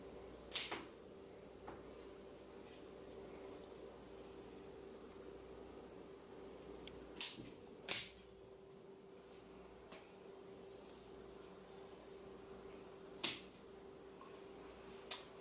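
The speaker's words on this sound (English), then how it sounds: "let me go ahead and chop some more of this back" Kalanchoe stems are cut back with pruners, giving a handful of crisp, isolated snips spaced several seconds apart, close up against a faint steady hum with no talking.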